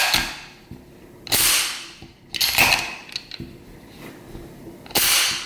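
Browning GP35 pistol being dry-fired and cycled after reassembly: sharp metallic hammer snaps and slide clacks, about five distinct loud clicks spaced irregularly with near silence between.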